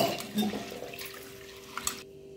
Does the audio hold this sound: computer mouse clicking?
no